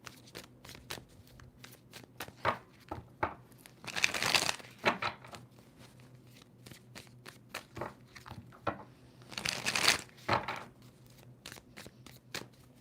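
Tarot cards are handled and shuffled with scattered soft clicks and taps, broken by two longer, louder riffling bursts a few seconds apart, all close and fairly quiet.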